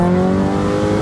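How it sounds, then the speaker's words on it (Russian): Honda Civic ED6 with a high-boost engine launching from a standing start in a street race, a loud, close, steady engine roar pulling hard through the short burst. "Ну, сейчас посмотрим, заезд с места."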